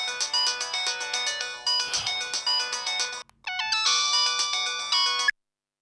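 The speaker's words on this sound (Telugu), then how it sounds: "ఆ ఫోన్ చూడండి. ఎవరైనా మృణాల్ని గురించి ఇన్ఫర్మేషన్ ఇవ్వటానికి ఫోన్ చేశారేమో." A phone rings with a bright electronic melodic ringtone, repeating short tuneful phrases loudly and close, with a brief pause before resuming; no speech.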